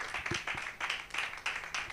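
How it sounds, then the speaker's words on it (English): An audience applauds at a community event in Africa, steady bursts of clapping rising and falling in waves, moderately near and sustained throughout. "A round of applause for Solomon once again."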